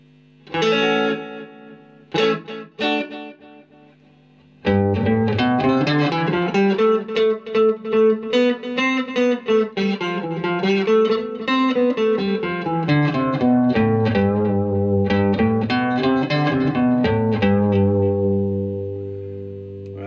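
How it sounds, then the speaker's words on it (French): A Stratocaster played through a Fender Super Champ XD amp with delay: a few plucked chords, then a steady run of picked notes with repeating echoes trailing behind, loud and close, no voices. "il y a un délai."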